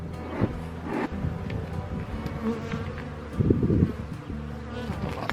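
Honeybees buzz continuously around an opened beehive during an early-spring hive check, a dense close drone with individual bees flying past the microphone and occasional handling knocks.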